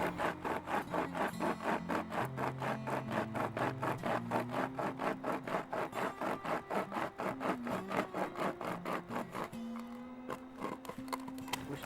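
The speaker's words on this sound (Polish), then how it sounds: "niedawno robiłem pierwsze próby tej piły, naprawdę fajnie tnie, bardzo szybko" Steady back-and-forth rasping of a hand saw cutting through wood, fast rhythmic strokes close by, continuing throughout with a brief change near the end.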